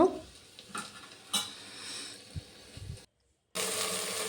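Mixed vegetables for vegetable rice cooking down in a pan, with faint sizzling and a few soft stirring scrapes close by, cut by a brief silence before a steadier hiss resumes.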